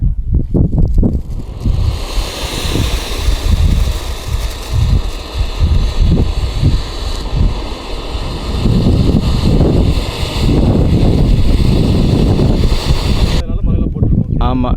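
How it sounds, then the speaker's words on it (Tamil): Strong wind blows outdoors during a daytime firecracker outing, roaring loudly against the microphone in gusts and rumbles for the whole stretch before cutting off near the end. "ஸோ வெளியே காற்று நல்லா அடிச்சிட்டு இருக்கு."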